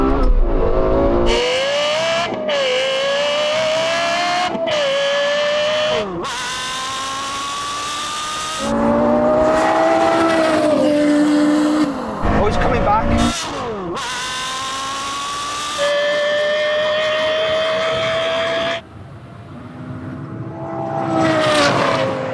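Porsche Carrera GT and Lexus LFA V10 cars in a quarter-mile drag race, loud high-revving engines wailing up through repeated gear changes with brief gaps between shifts, close and dominant, ending on a fading whine and rising roar.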